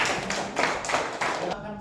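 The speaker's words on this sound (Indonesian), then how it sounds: "Tepuk tangan buat kelompok 4." A group claps in applause for the fourth team in a classroom, several rhythmic bursts of clapping close by that stop abruptly at the end.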